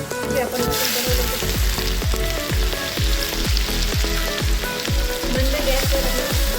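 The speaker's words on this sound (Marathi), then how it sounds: "जिरे टाकूया, जिरे फुलले केलेले वाटण टाकून घेऊया।" Cumin and ground masala paste frying in hot oil, a loud steady sizzle with a run of regular, evenly spaced low thumps from stirring beneath it.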